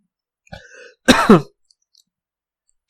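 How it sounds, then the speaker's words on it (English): A single close, harsh cough or throat-clear bursts out after a brief faint vocal sound, then silence follows. "My coughing is only from my dust."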